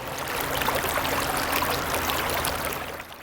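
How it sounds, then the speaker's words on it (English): Water from a burst water main gushes through cracks in a North Park street, a steady, dense rushing flow heard alone. "Water flowing out of every crack in the street and down every alley in its path."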